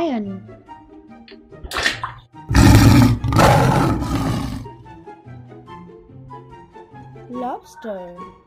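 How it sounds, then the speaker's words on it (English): A lion's roar, loud and rough, lasting about two seconds in the middle and standing alone between stretches of soft background music, with no talk over it. "Lion."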